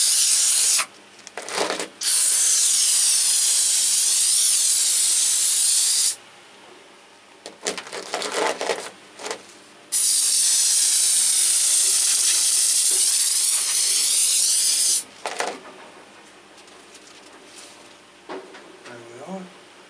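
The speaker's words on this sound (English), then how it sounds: "Just give it a little spray to remove all the dust." A handheld spray bottle mists an orchid leaf in long hissing bursts, three extended sprays with short puffs between them, heard up close with quiet handling noises in the pauses.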